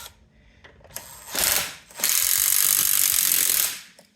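Ratchet wrench tightening a joint underneath a Bentley Mulsanne S, heard as a few quick clicks followed by two loud, fast bursts of ratcheting close by, with no voices.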